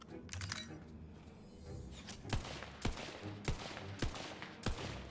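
Gunfire from a weapon in the fantasy shooter Tiny Tina's Wonderlands: a handful of sharp single shots spaced roughly half a second apart, moderately loud over a steady game soundscape.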